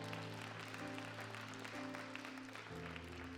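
A church congregation applauding, a faint dense patter of clapping under sustained organ or keyboard chords.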